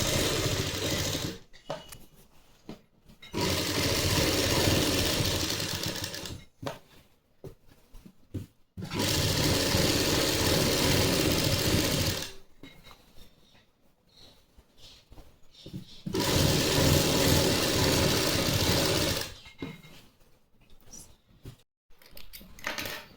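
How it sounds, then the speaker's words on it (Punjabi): A sewing machine stitching a salwar runs in three long, loud bursts of steady whirring, separated by short pauses with faint handling clicks, no talk. "ਹੁਣ ਆਪਾਂ ਇਹਨਾਂ ਤੇ ਇੱਕ ਸਲਾਈ ਲਗਾਵਾਂਗੇ"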